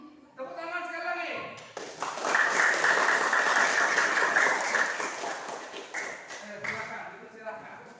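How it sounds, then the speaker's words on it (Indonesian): A classroom of students claps together after a teacher's prompt, a dense burst of applause that swells and holds for several seconds before tapering, with the teacher's voice speaking before and after it. "Tepuk tangan sekali lagi."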